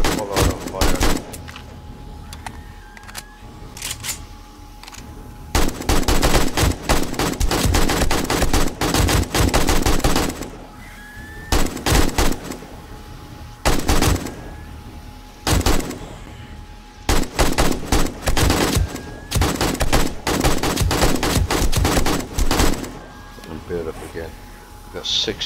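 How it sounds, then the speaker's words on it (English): Full-auto gunfire in the survival game 7 Days to Die rattles in long, loud continuous bursts with short pauses between them, and a voice talks over parts of the shooting. "You can get away with full auto fire."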